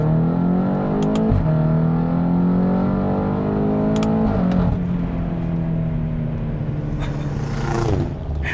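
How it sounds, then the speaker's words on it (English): A 567 hp 2016 BMW X5M accelerates hard, its engine note climbing steadily through the gears with brief dips at the shifts. The loud, continuous roar is heard from inside the cabin and tails off near the end. "It feels like it pulls harder in fourth gear than it does in third gear."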